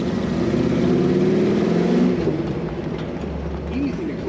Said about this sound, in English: Nice exhaust note coming from this Jeep.